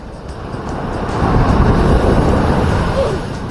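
Heavy sea waves rolling against a small fishing boat, a broad rushing swell that builds louder mid-clip then eases, with low engine-like rumble beneath.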